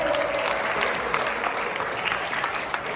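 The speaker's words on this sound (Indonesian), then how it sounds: "Tepuk tangan ini untuk adik Bali" Students at an anti-drug awareness session in East Java give a student a steady round of applause, a dense even clatter of many hands with occasional louder claps, lasting the whole stretch.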